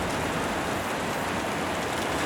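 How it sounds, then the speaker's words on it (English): A heavy rain downpour in the video game Tokyo Afterschool Summoners: dense, steady hiss of rainfall with no pauses or voices, even and loud throughout. "It's coming down like cats and dogs, and the sudden downpour has you running to find a roof."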